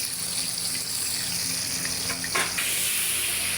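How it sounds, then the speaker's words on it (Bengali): Hilsa fish frying in a pan, a steady close sizzle with faint stirring and a brief splashy burst toward the end, no talking. "কেমন হয়েছে ইলিশ মাছটা ভাজা বন্ধুরা বলবেন।"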